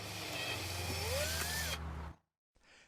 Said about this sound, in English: 2 holes are drilled in the solid plastic backing.